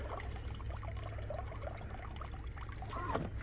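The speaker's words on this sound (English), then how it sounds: "See where that water comes out." Water drains from a lifted pool skimmer net, a steady trickling pour with small splashes, close and moderately loud, with no talking.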